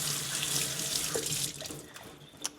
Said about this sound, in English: You can actually run water over this entire unit.